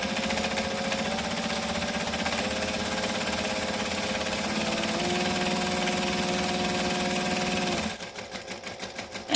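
A sewing machine stitches a fabric bag handle with a continuous mechanical hum for nearly eight seconds, then gives way to softer, uneven pulses as it slows.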